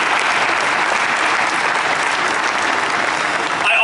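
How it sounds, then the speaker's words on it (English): Audience at a JetBlue Airways ceremony in Hangar 81 at JFK applauding, a dense steady round of clapping from a sizeable crowd that carries through the whole clip. "How about we give our Tech Ops team a huge round of applause as well."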